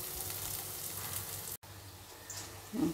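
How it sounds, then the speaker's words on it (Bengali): Bhog rice and potatoes fry in a pan with a steady, close sizzle that drops out for an instant midway, then carries on with a slightly louder crackle near the end. "ভাজা ভাজা হোক।"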